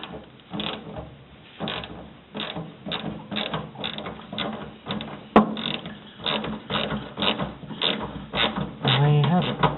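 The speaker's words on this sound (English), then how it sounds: "I'm going to get a ratchet on it" A hand ratchet turns a bolt out on a 409 engine restoration, with bursts of rapid clicking pawl strokes repeated through the clip and a sharp knock midway, close up and moderately loud.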